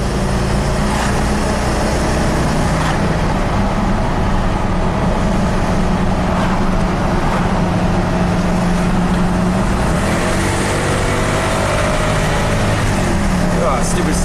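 A BMW car climbing a mountain road, its engine droning steadily under loud, continuous road and wind noise from inside the cabin, with a voice talking over it.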